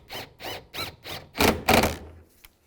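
Screws on a 2003-07 Nissan Murano side mirror are run in with a ratcheting tool, about six rhythmic buzzing bursts, close and fairly loud, the last two longer and harsher.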